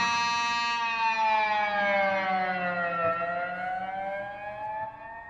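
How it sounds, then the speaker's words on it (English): An electric guitar pinch harmonic is bent down through a pedal super bend, giving one sustained, bright, siren-like tone that falls in pitch and then slides back up, played alone at moderate volume. "I can hit a pinch harmonic and dive with it"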